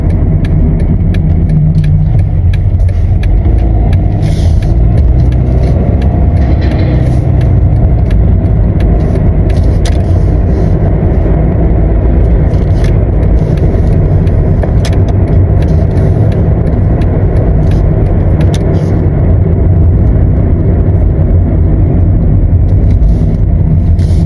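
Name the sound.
road traffic, cars passing in New Zealand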